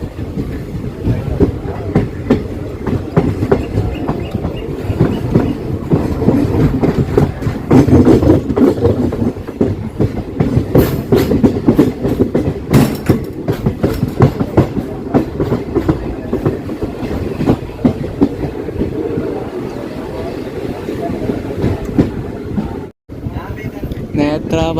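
An unreserved passenger train runs on the tracks between Kanhangad and Mangaluru as it nears the Netravati river. It makes a loud, continuous rumble with a rhythmic rattle and clatter of wheels and carriages, and voices come faintly from inside.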